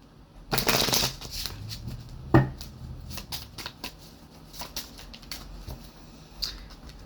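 A deck of oracle cards is shuffled close up, a brisk riffling burst followed by scattered soft flicks and taps of cards being handled.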